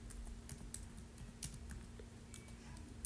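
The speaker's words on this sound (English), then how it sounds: "You could just type right here" Quick, light keystrokes on a computer keyboard tap along in an irregular rhythm, close but quiet over a soft steady hum.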